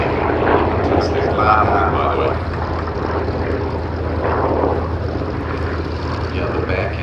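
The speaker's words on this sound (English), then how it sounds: "the Bearcat is probably the most extraordinary aeroplane I've ever flown in terms of performance" A Bearcat naval fighter aeroplane drones steadily with propeller engine roar at an airshow, loud and continuous at mid distance, while people talk over it.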